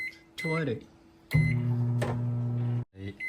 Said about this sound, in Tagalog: Saka po natin ipapainit sa microwave.